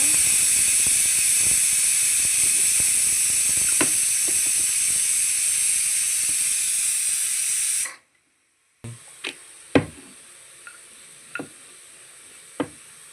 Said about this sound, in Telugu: విజిల్ ఆవిరి వెళ్ళిపోయిందండి చూద్దాం